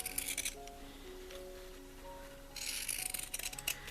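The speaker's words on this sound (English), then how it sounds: "I'm going to use my pinking shears and just cut all the way around" Pinking shears snip through fabric while cutting around a bird pin cushion shape, giving short crisp clustered cuts at the start and again near the end, close and moderately quiet, with faint tonal background hum between.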